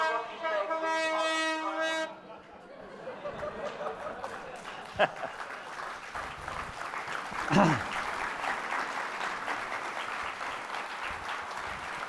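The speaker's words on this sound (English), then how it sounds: "They're all yelling, the train is coming." A train pulls into a station platform, with a loud horn blast at the start, then a sustained rumble of cars rolling in and a squeal or clank near the end, amid crowd noise and voices.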